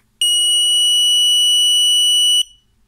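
A single shrill electronic beep from an Arduino motion sensor alarm, steady and piercing, held for about two seconds before cutting off abruptly into silence.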